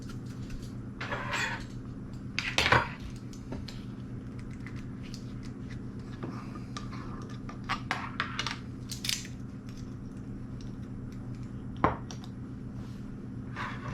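A knife leveling off a heaped teaspoon of bread machine yeast: faint scraping and light crunchy clicks, close by, with a couple of sharper taps against a quiet background.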